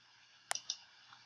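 A single computer mouse click on a submit button, a sharp, close, quiet tick with a faint second click just after, set against near silence.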